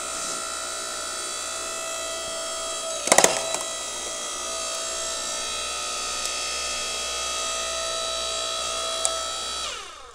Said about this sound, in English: a 5-ton log splitter is plenty